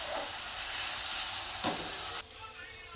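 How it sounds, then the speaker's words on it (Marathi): Masala frying in oil in a pan, a loud continuous sizzle with a brief stir or scrape in the middle, then the sizzling drops to a quieter hiss. "मसाला छान तेल सुटेपर्यंत परतून घेतलेला आहे"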